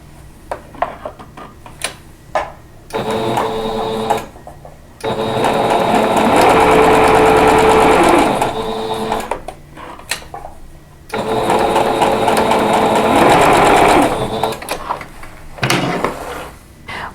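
Sewing machine stitching quilt block pieces for a tulip flower block, running in loud close bursts of a few seconds each separated by pauses filled with faint handling clicks and rustles.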